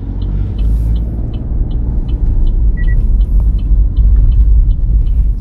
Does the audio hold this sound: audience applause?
no